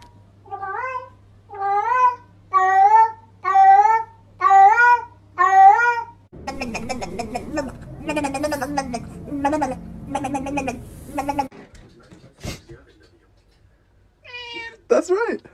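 A cat meows in a run of about six clear, evenly spaced calls, close and loud, followed by a woman singing a children's song and further meows mixed under her voice.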